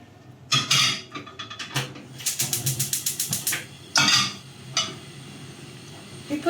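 A metal frying pan being readied for Thai fried pork with garlic and pepper, with close, sharp clanks and a rapid series of rattling clicks, then a couple more scrapes and knocks of metal on the stove.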